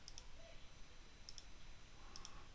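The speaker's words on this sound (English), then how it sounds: "When I click on run" Computer mouse clicks come in quiet, sharp paired taps, three pairs spaced over a couple of seconds, against faint room hiss.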